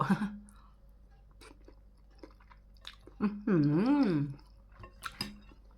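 Someone eats noodles with braised pork leg, with quiet, scattered chewing and mouth sounds; a hummed note of enjoyment rises in the middle.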